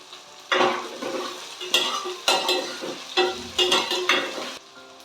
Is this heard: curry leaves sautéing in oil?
yes